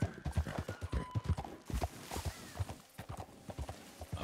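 Rhythmic horse hooves clip-clop at a walking pace in Red Dead Redemption 2 Online, with an occasional faint whinny, continuing steadily throughout.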